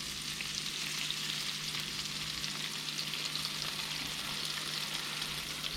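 Halibut fish frying in a pan as stir-fry sauce is poured in, a steady loud sizzling hiss with crackle that holds evenly throughout, close up and with no talking.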